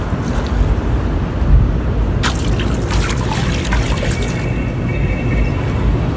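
Water splashing and trickling in a hotel swimming pool in Quezon City, Manila, where a baby plays, with irregular drips and splashes over steady background noise, loudest in a burst midway.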